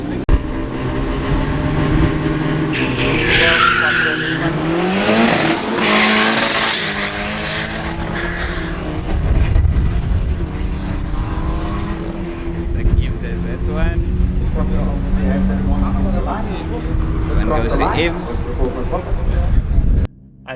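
An Audi S3 8V launching in a drag race against a turbocharged Cadillac, engine roaring loud and close with tire squeal from wheel spin, then pulling hard through the gears, with voices talking over it.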